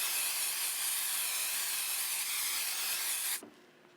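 A steady, close hiss of spray adhesive onto fabric runs continuously for over three seconds, then cuts off abruptly into near silence.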